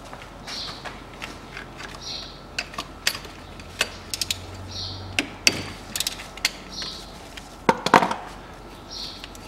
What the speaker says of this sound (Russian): Откручиваю гайку.